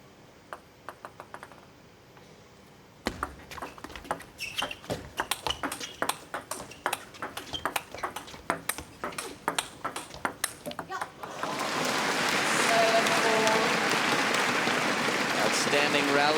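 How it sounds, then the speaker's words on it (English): Table tennis ball cracks sharply off paddles in a rapid rally during the women's final at the 2014 Japan Open, Feng Tianwei against Ishikawa Kasumi, a dense run of bright clicks that gives way to loud, sustained crowd applause. "You could hear the high clicky sounds from the forehand of Feng Tianwei"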